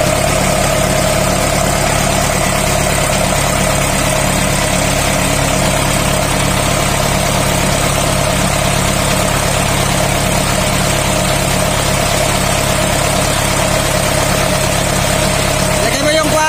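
A generator engine restored after flood damage from a typhoon runs at a steady idle, a loud, constant, unchanging drone with no breaks throughout.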